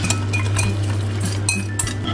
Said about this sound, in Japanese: 中火でとろみがつくまで混ぜていきます。